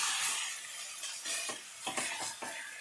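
Crab frying and being stirred in a pan, with a steady loud sizzle broken by repeated scraping stirs.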